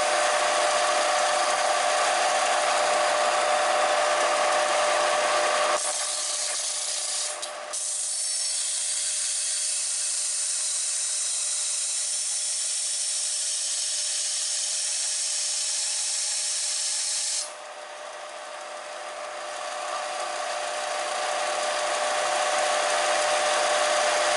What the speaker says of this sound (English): We're going to attempt to grind it straight and then shape the edge.